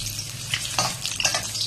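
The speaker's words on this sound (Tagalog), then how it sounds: "Lagyan na po nating mantika yung kawali. Guys, ngayon po ilagay na natin yung sibuyas." Onions frying in oil in a pan for pork dinuguan, a close, steady bright sizzle with a few spatula scrapes and stirs, with no talking.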